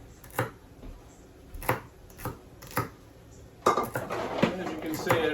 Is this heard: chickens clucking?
no